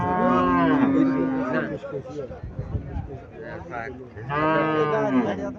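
Haryana cattle moo loudly and nearby, with one long, drawn-out moo at the start and another near the end, and rustling and low voices in between.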